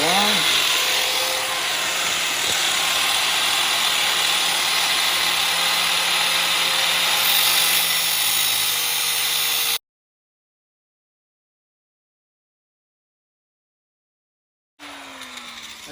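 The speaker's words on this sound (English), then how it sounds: "Turn the grinder on." A Harbor Freight grinder runs continuously, throwing sparks, with a loud steady whine that fills the air for about ten seconds, then cuts out to silence before a brief restart.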